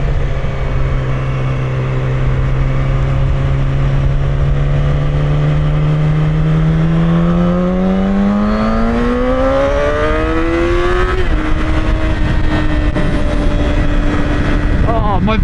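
A motorcycle engine drones steadily, then its pitch climbs and drops as the rider downshifts before a slow corner, with heavy wind rush throughout, loud and close.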